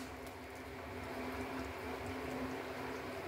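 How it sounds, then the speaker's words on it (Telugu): A pot of bottle gourd stew bubbles steadily on the stove, giving a continuous, close simmering hiss with a faint hum underneath and no voices. "సొరకాయ పులుసు ఉడుకుతుందండి."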